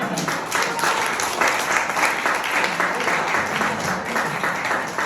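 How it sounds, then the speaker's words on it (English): Audience applause fills the room at an open mic comedy show after a comedian's set, a dense, steady wash of clapping at even loudness with a few scattered voices mixed in. "Oh, keep clapping for Carl."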